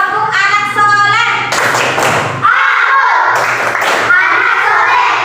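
A group of schoolchildren clapping in rhythm while chanting the Indonesian "tepuk anak soleh" clap chant in a classroom, the claps and voices loud and close, with a teacher's voice leading.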